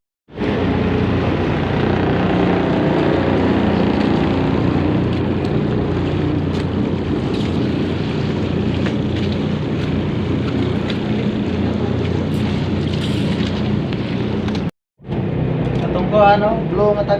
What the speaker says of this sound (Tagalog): niabot na gayud ang barko nga atong gipaabot